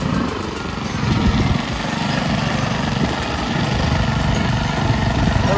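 A tractor engine runs in a flooded rice field during transplanting in Konkan, a steady loud mechanical drone that holds throughout with slight swells in level and no clear speech.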